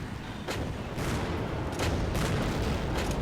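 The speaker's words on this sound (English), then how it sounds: "There's a few too many grenadiers shooting right now." Gunfire from grenadiers in the video game Empires, a dense, steady rattle of shots with a few sharper cracks standing out, loud and continuous throughout.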